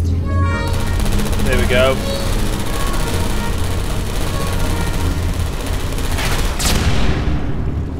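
Rapid bursts of turret gunfire in the Portal 2 mod Portal Stories: Mel, a dense loud rattle running through the whole stretch beneath a voice speaking briefly.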